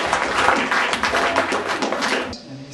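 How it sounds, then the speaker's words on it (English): An audience at a graduation dinner claps, a dense patter of many hands, moderately loud and steady, that stops abruptly near the end and gives way to quiet room tone. "we'll give him a clap to come up"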